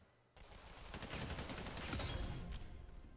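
Rapid automatic gunfire from a weapon in a Roblox gun game, a quiet, continuous burst of fast shots with a steady rattling rhythm lasting several seconds.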